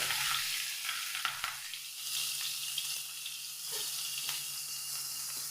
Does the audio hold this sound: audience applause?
no